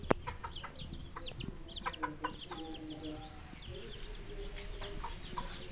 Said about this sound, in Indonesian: Kalau yang ini ayam usia 1 minggu.